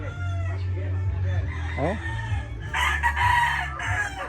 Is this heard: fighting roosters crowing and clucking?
yes